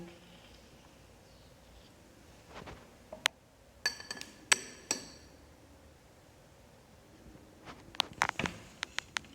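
A spoon clinks against a glass while a yogurt parfait is made, bright short taps in scattered clusters, close by in a quiet room with no talking.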